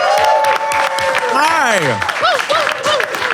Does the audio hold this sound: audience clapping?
yes